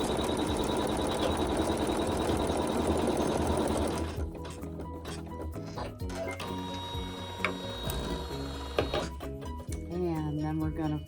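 A sewing machine runs loudly and continuously while sewing a quilt block seam, then stops, and quieter handling noises and a voice follow.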